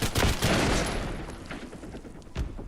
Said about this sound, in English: I'm hearing huge gunfire.